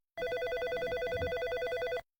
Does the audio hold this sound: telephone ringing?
yes